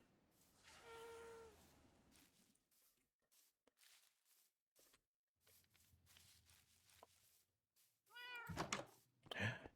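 Cats meowing in Minecraft, a couple of short game meows, one near the start and two louder ones at the end, separated by quiet stretches with soft thumps and footsteps.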